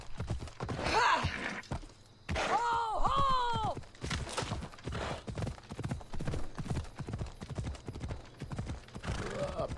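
Horse hooves clip-clop in a rapid galloping rhythm in the video game Assassin's Creed Odyssey, with a horse's whinny and someone talking over the steady hoofbeats.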